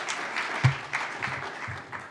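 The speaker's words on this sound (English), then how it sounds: "Give them another round of applause, please." Conference audience applauding a political panel at a democracy conference, a steady wash of clapping lasting about two seconds with a slightly stronger burst near the start, heard from within the hall.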